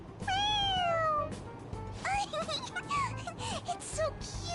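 A pressed toy cat in Persona 5 Royal lets out a long clear meow, followed by a run of short chirpy meows. Game music plays underneath.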